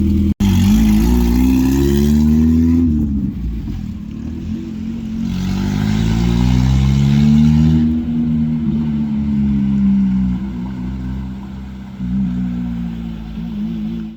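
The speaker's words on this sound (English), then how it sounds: "like you guys just saw, Cindy's vehicle finally left" A car's engine hums loudly and steadily nearby, rising and falling in pitch as it revs and pulls away, with no voices.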